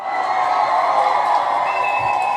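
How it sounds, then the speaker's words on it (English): Studio audience cheering and applauding for a guest on a late-night talk show, a steady, loud wash of crowd noise with whoops over sustained clapping. "let's give the beautiful Ange a huge, huge, huge round of applause"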